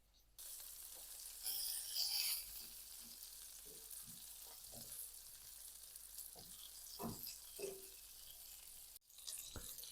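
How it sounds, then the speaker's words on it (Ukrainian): Rabbit meat sizzles quietly in a hot frying pan, browning on both sides, a steady soft crackle with occasional light taps and scrapes, no talking. "І обсмажую з обох сторін до зарум'янення."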